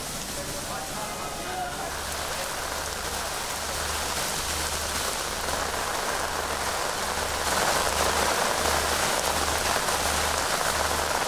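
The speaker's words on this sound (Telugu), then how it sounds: "తెలంగాణలోని పలు జిల్లాల్లో కూడా భారీ వర్షం పడుతోంది" Heavy monsoon rain pouring over Hyderabad, a dense, steady hiss that fills the whole clip and grows slightly louder toward the end.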